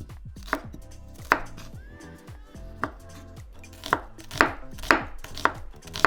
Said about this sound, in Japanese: あとはこの中にカラフルなお野菜を切って加えていきます。